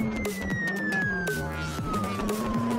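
An American ambulance's electronic siren in the BeamNG driving game wails steadily, its tone sliding slowly downward, loud and continuous with faint engine and impact noises beneath.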